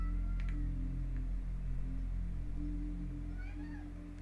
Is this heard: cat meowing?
yes